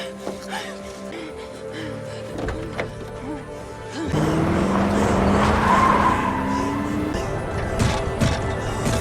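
Car speeding away during a getaway, engine revving up sharply with tires squealing, the pitch climbing as it accelerates, loud and close, after a quieter stretch with music and voices.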